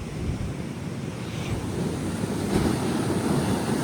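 Big sea waves crashing on the shore, a broad continuous roar with wind buffeting the microphone, swelling louder toward the end; no talking.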